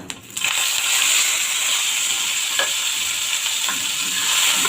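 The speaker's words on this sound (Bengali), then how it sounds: "পেঁয়াজটা ভেজে নেব" Onion paste frying in oil with cumin seeds, cinnamon and cardamom, a loud, continuous hiss and sizzle with a few soft stirring scrapes.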